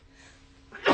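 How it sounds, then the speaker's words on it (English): A single sneeze bursts out loud and close at the end, after about a second of quiet breathy room sound. "I'm gonna sneeze."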